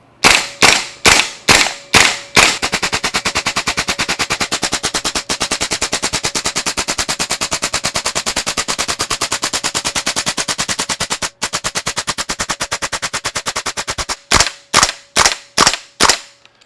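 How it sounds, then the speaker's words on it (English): A KWA LM4C gas blowback airsoft rifle with a PTS bolt carrier group dry fires on green gas, opening with a few spaced sharp cracks, then a long rapid full-auto clatter of mechanical snaps, ending with several separate shots. "So we're going to dry fire."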